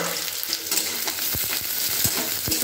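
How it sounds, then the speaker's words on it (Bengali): Onion, garlic and green chili fry in hot oil with a continuous bright sizzle, punctuated by several low knocks of a spatula stirring the pan. "এবার আমি পেঁয়াজ, রসুন আর কাঁচা লঙ্কাটাকে একটু প্রথমে ভেজে নেব"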